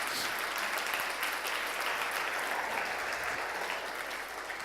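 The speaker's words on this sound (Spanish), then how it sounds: "Denle un aplauso a Jesús por esas verdades." A church congregation claps in a steady, dense round of applause during a Spanish-language sermon, moderately distant and continuous with no speech over it.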